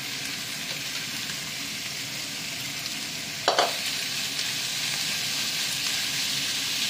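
Browned onions fry in a pan with a steady close sizzle throughout, broken near the middle by one brief clatter or stir.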